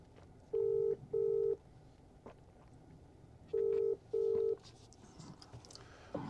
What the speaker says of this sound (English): Calling David Brown mobile